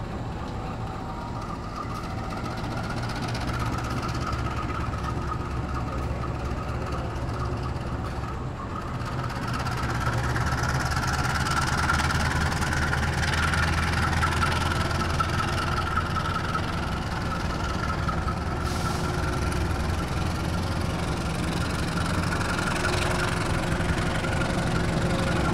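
The Matarmaja passenger train idles and rolls out of track 1 at Pekalongan station, a steady, loud, low diesel rumble that swells slightly partway through and carries a faint mid-pitched whine, with no voices.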